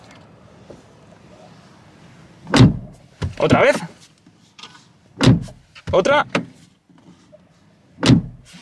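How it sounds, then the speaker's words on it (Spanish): A new Volkswagen Golf's car door shuts with a solid thunk three times at even intervals. Brief speech and rustling fill the gaps between slams. "Voy a cerrar la puerta, escuchad."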